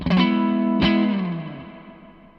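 Guitar played through a Zander Circuitry Exosphere pedal on its first reverb setting: one strummed chord rings out, a second strum follows, and both decay with a smooth tail that fades steadily over two seconds.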